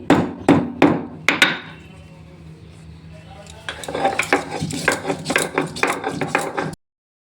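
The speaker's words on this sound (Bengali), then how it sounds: "আমি একটু গরম মশলাও বেটে দেব, এলাচি, দারচিনি" Cardamom and cinnamon for garam masala being ground by hand: a few sharp knocks and clacks at first, then a steady run of rhythmic scraping, grinding strokes, close and fairly loud.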